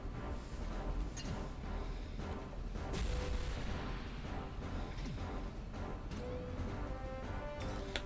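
Steady barrage of shots and booming impacts from a mech shooting attack in Sakura Wars, dense and loud throughout, layered over game music with no speech.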